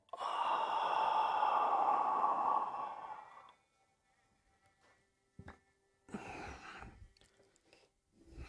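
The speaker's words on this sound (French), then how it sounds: "pleine respiration." A deep breath exhaled during a guided breathing exercise: a long, strong sigh-like exhale for about three seconds, followed by quiet, a brief click, and a softer second breath later.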